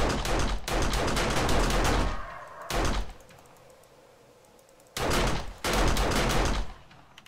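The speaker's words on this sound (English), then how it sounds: "So you can actually use the turrets to shoot stuff." Automatic turret fire in 7 Days to Die, loud rapid bursts that start and stop: a long burst, a short one, a quiet lull, then two more sustained bursts close by, with no talk.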